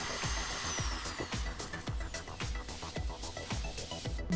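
A power drill run from a battery through an inverter whirs steadily throughout, with regular rhythmic knocks and grinding as it bites into material, fairly loud and continuous.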